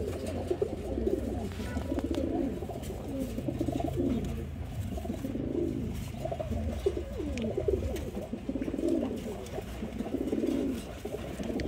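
A male pigeon coos steadily in repeated low, throaty rolling phrases, close and continuous for about twelve seconds, with no talk over it.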